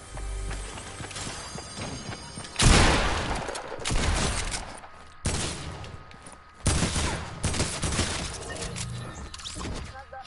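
Game gunfire in Fortnite, with several loud, sharp shot bursts at irregular intervals over busy background game sounds, with some brief talk mixed in.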